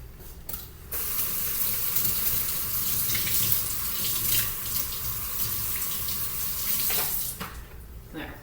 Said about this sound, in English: I'm gonna bring this over to the sink and sort of rinse the whole bag first before I open it